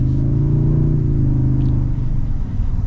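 A deep, steady V6 engine rumble from a 2025 Toyota Tundra 1794 Edition pickup truck, partly piped into the cabin, its low drone rising slightly as it revs, close and loud with no voices.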